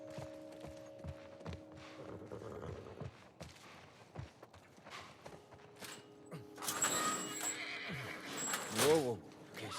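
A horse in the video game The Last of Us Part I gives a whinny near the end, with hoof clip-clop and other game sounds under characters speaking French.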